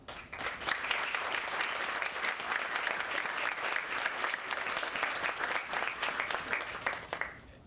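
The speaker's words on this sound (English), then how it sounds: "I wanted to give everyone here a round of applause" Round of applause at a building ribbon-cutting ceremony at 500 Discovery Drive, a crowd clapping steadily and fairly close, sustained for several seconds before stopping abruptly near the end.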